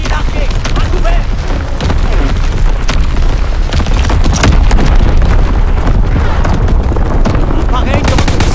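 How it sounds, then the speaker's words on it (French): Heavy, booming enemy bomb blasts and rolling gunfire in Call of Duty WWII, a loud, saturated barrage of detonations and crackling shots throughout, with in-game voices calling out over the din. "Bombe ennemie larguée, à couvert."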